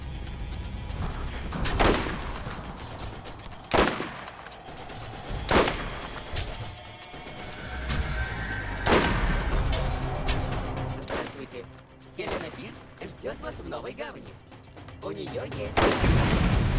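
Gunfire from the video game Borderlands: loud sharp shots and bursts boom out at irregular intervals over a steady rumbling battle background, with a voice talking across the clip.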